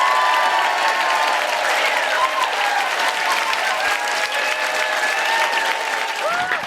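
A live festival audience at Hay gives sustained, loud applause for writer Jon Ronson, a dense continuous patter with faint crowd murmur and a few tonal whistles or squeaks over it.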